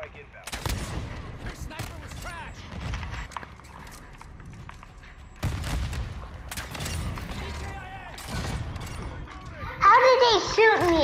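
Gunfire in Call of Duty Modern Warfare 2, with sharp bursts of shots and clattering rounds scattered across a busy match, mixed with a player's excited talk and game sounds.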